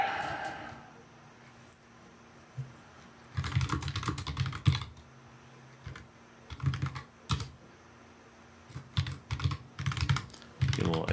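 Keys clatter on a computer keyboard in bursts of rapid typing, separated by short pauses, close and crisp against a quiet room hum, with no talk.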